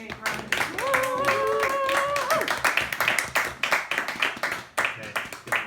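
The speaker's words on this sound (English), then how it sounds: "everybody give him a big round of applause" An audience claps as a poet takes the stage, a dense, close run of applause with a whistle-like tonal sound early on and the clapping thinning toward the end.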